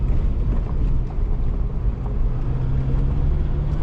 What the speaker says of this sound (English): There's a lot of engine braking going on